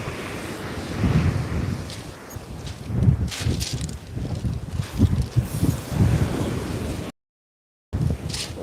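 Strong gusting wind buffets the microphone on a UK shoreline during sea fishing for ray, a continuous rumbling roar that swells and eases, mixed with surf, with a brief dropout near the end.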